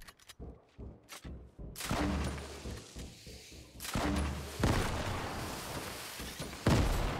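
Gunfire in the Fortnite video game with the Tac SMG, loud bursts of rapid shots and impacts in a busy battle, with brief pauses between volleys and heavier blasts near the end.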